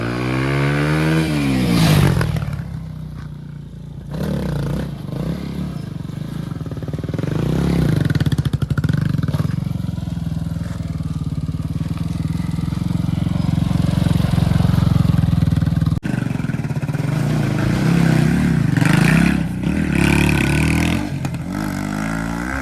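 A stunt rider's motorcycle approaches along a quiet layout road, its engine droning loudly and steadily throughout, with a few surges and shifts in pitch as it nears.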